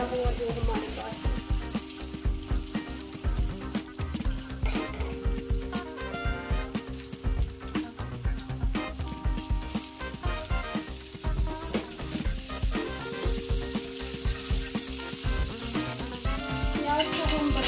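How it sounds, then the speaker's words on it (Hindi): Chopped onions frying in a pan for lamb pulao, a steady loud sizzle with occasional stirring scrapes running continuously throughout, with no talk over it. "प्याज को हम ब्राउन करेंगे।"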